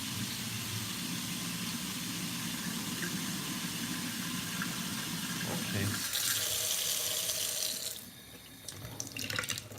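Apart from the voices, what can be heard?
warm water running from a tap for a recipe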